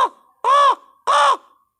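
Crows give two loud, close caws, each a harsh, nasal call of about a quarter second, spaced roughly half a second apart, with a faint trailing call at the start and quiet between them.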